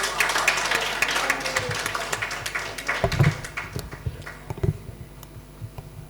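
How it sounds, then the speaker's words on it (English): Conference audience at PAHLCA 2024 clapping for a panel, a burst of scattered hand claps that thins out and fades over several seconds. "can we give them another hand clap?"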